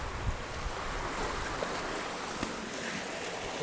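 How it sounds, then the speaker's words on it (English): Wind blows steadily across a sailing boat at sea, a continuous broad rushing roar mixed with wash of water, with a few faint knocks and no talk. "Finally got some wind, eh?"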